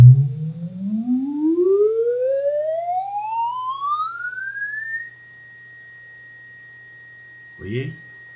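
An electronic test tone from speakers starts low and deep around 50 Hz and glides smoothly upward in pitch, then holds a steady high note; a short voice cuts in near the end.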